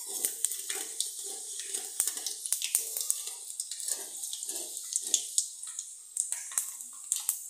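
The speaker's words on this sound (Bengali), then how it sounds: "ফোড়ন দেওয়া হলো।" Five-spice seeds crackle and sizzle in hot oil for a koi fish curry, a steady dense frying hiss with quick popping spatters and some stirring, close and continuous.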